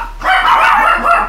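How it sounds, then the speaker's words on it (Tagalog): Dogs bark noisily close by, a short burst of yips and barks rising and falling with a brief pause in the middle. "excuse me lang sa maiingay na aso."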